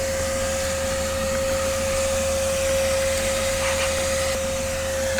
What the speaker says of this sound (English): I got the vacuum here on the truck, plugged into the truck.